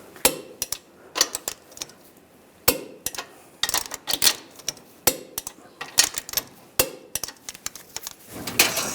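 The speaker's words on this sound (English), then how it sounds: "Now we're going to torque these to 70 foot-pounds." A torque wrench tightening lower control arm bolts on a 2013-2016 Dodge Dart, sharp metallic clicks and ratcheting in irregular bursts with short pauses, close by.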